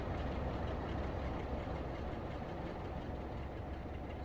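A Rail Adventure HST train in a railway simulation game, heard as a quiet, steady low rumble of a diesel engine and rolling stock that stays even throughout, with no voices.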